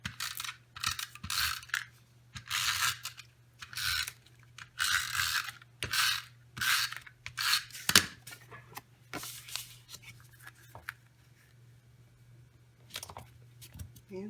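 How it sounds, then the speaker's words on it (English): A snail adhesive tape runner laying tape onto card, heard as close, dry ratcheting clicks and short bursts of mechanical rasping in an uneven rhythm, with quiet gaps between strokes and no talking. "Again, I'm just using snail."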